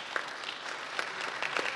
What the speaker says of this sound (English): Let's give them a round of applause for coming out today.